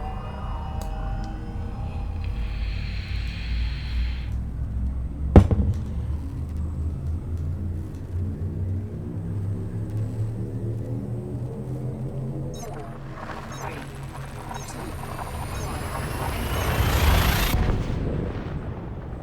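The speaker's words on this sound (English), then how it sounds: "Engage jump drive. Jump into light speed." Spaceship jump drive engaging in Elite Dangerous: a steady low engine rumble with a sharp thump, then a rising, swelling whine that builds to a loud peak near the end.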